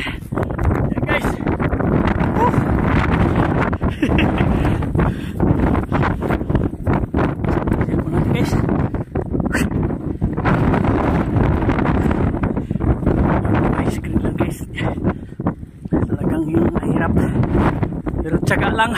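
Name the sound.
strong wind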